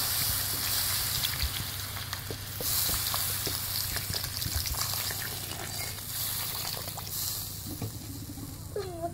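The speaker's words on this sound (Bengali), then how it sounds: "তারপরে আমি এখানে জলটা অ্যাড করছি" Taro and prawn curry sizzles loudly in a pan as water is poured in. The frying crackle is dense and constant, with scraping stir strokes and a brief splash and bubbling near the end.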